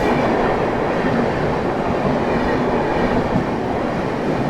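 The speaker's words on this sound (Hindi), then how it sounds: "देखो फिर से कोई आ रही है, स्वतंत्रता सेनानी एक्सप्रेस" The Swatantrata Senani Express, running from Jaynagar to New Delhi, passes close by with a loud, continuous roaring rush of wheels and carriages that stays steady throughout, with no talk.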